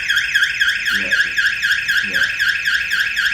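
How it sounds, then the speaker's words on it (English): A smart car's alarm sounds loud and close, a rapid repeating warbling siren that carries on steadily, with a brief voice over it. "Okay, sound the alarm."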